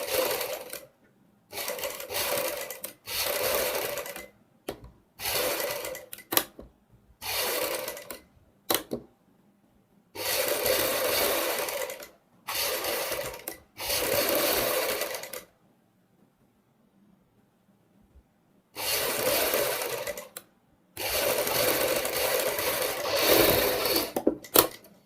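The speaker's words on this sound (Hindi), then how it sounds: "हम बुकरम के ऊपर सिलाई लगाएंगे" A sewing machine stitches along buckram for boat neck blouse piping in bursts of rapid, close mechanical whirring, with short pauses and one longer quiet gap between the runs.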